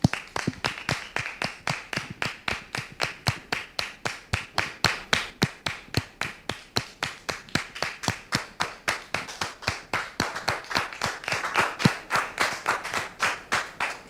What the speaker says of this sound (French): je demande au public de les recevoir avec applaudissements, s'il vous plaît